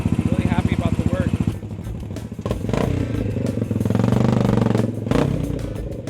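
Vintage motorcycle, rebuilt from a junkyard wreck, running loud and close with a rapid, steady exhaust beat, then revving up and holding higher under a brief voice.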